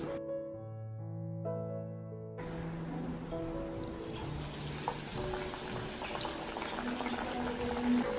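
Parippu vada (lentil fritters) go into hot oil and fry with a continuous bubbling sizzle that starts partway through. Soft melodic music plays underneath, and no one speaks.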